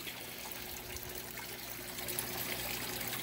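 Water trickles steadily from a waterfall in an aquarium tank, a faint continuous splashing and bubbling heard from a short distance with a low hum beneath.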